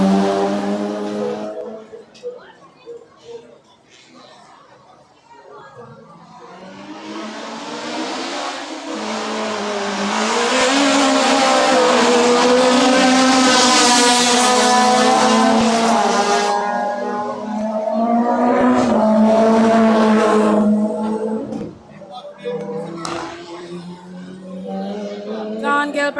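Race cars at a hairpin during a racing carnival at a circuit brake, corner and accelerate away, with engine notes swelling from distant to a loud, close roar of several cars and then fading, with tire squeal in places.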